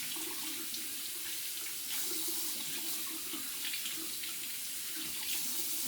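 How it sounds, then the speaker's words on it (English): Water runs from a sink faucet during hand washing in a microbiology lab, a steady close hiss and splash that holds unbroken for six seconds with no talking. "turn off the faucet"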